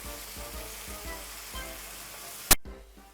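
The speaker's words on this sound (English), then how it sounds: "it's frying up so lovely and nice" Vegetables sizzle and fry in a pan while a Jamaican saltfish dish is cooked. The close, steady crackle is briefly broken by one sharp clatter, then the frying carries on. No one speaks.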